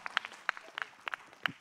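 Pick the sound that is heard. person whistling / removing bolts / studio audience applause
studio audience applause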